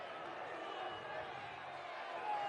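The UTEP Miners home crowd at a college basketball game against LA Tech roars in protest at a referee's foul call, a steady broad wash of crowd noise heard under a commentator's talk.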